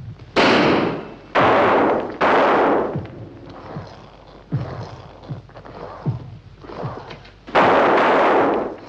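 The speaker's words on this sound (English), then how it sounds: "Then cover him as he leaves the house. And shoot straight. Don't waste a shot." Gunshots from the film Fiend without a Face ring out as several sharp, loud reports at irregular intervals, with quieter thuds and movement between them.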